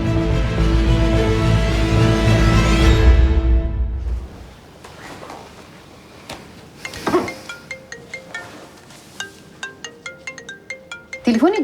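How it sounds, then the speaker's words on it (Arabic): Mobile phone ringtone chiming in a repeated melodic pattern after a loud swelling musical passage, the short electronic tones coming in a regular pulse, clear and close. "تليفونك بيرن."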